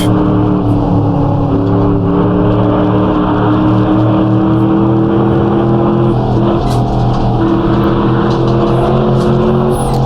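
Race car engine in the Assetto Corsa racing game during an endurance event, droning loudly and continuously with uneven throttle blips that rise and fall in pitch.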